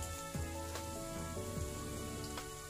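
Chili sauce (sambal) sizzles and crackles steadily in a hot pan, with occasional stirring scrapes, close up and with no one talking.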